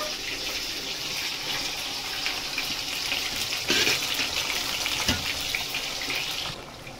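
Cooked chicken pieces for spicy pickle hit hot oil in a pan, giving a loud, continuous hissing sizzle that holds steady, with a couple of brief louder bursts as pieces settle.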